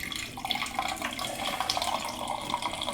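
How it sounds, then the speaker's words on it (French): During home beer brewing, wort is poured slowly back into the mash, making a soft, continuous trickling and splashing of liquid at close range. "Je reverse mon jus tout doucement à l'intérieur."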